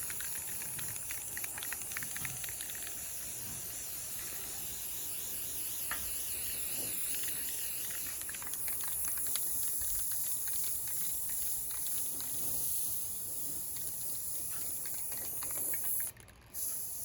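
A spray paint can hisses steadily at close range as paint goes onto a control panel, a continuous airy rush that runs almost without a break before a brief cut-off near the end.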